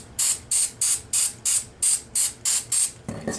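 Flux-remover wash sprays onto a circuit board for an Atari 5200 controller in nine short, evenly spaced hissing bursts, close and fairly loud, followed by softer handling noise at the end.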